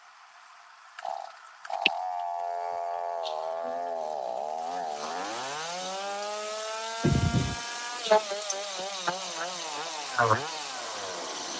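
A chainsaw with its chain brake engaged pulls into life and revs up, its engine tone rising and wavering loudly and up close, with short knocks and a brief spoken word partway through.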